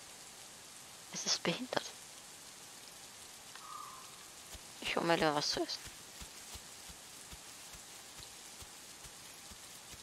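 Steady light video game rain in The Isle patters softly throughout, with scattered individual drips ticking over it while two short bursts of speech come and go.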